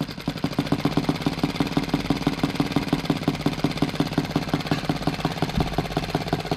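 Muravey motor scooter engine running at a steady idle after starting, a close, loud, even rapid chugging with a slight knock throughout.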